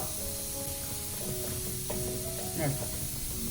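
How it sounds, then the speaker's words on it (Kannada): Spinach and water cook in a hot pan with a soft, steady sizzle and hiss, broken by a few brief stirring clinks and scrapes, fairly quiet and close. "ನೀರನ್ನು ಹಾಕಿ ಪಾಲಕ್ ಸೊಪ್ಪನ್ನು ಸೇರಿಸ್ಕೊಬೇಕು"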